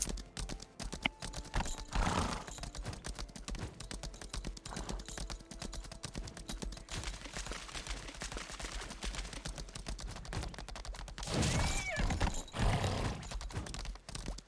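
In a video game, a horse gallops across a bridge, its hooves beating in a rapid, even rhythm that is quiet and continuous, with a couple of louder game noises mixed in.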